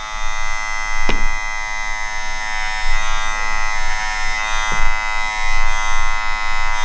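Electric hair clippers buzz steadily during a taper fade, a close, bright motor whine with strong harmonics, broken by a couple of sharp clicks as the guard setting changes and the clippers move through the hair.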